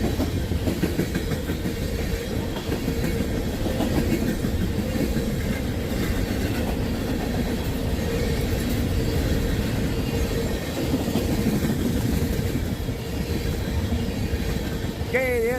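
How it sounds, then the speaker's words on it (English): An intermodal freight train rolls past nearby with a steady rumble and rhythmic clickety-clack of wheels over rail joints, continuing loudly the whole time, with a faint squeal near the end. "intermodal went by"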